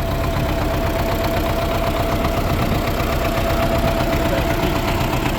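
A 1985 MTZ-80 tractor's diesel engine idles steadily and loudly up close, a constant rumbling drone with a slight knocking throb and no voices.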